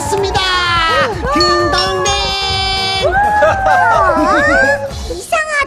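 A bright, tinkling jingle of bell-like chime tones plays over lively background voices, rising and falling in a short cheerful melody.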